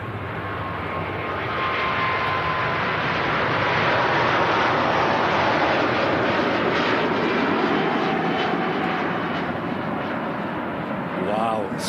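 Airliner departing Manchester Airport, a loud broad roar of jet engines swelling to a peak mid-way and holding steady, with people talking faintly beneath it.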